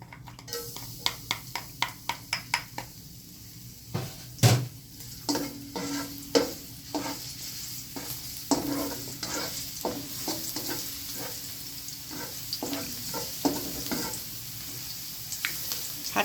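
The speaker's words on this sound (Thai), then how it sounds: "มาลงมือผัดกัน" Chinese kale and canned fish being stir-fried in a pan, with a run of sharp spatula scrapes and clacks against the metal over a soft, steady sizzle, close and fairly quiet.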